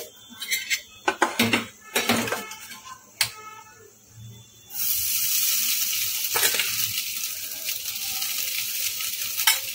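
Sago pearls dropped into a hot pan for sabudana khichdi, first a run of clinks and scrapes of a spoon against the pan, then a sudden loud, steady sizzle that carries on as the pearls are stirred.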